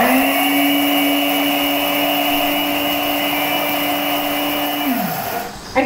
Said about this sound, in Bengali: এই যে 5 ফোড়ন গুঁড়ো করলাম এটা কিন্তু ভাজা না, কাঁচা